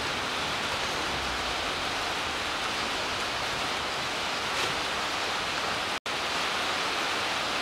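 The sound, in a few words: rain outside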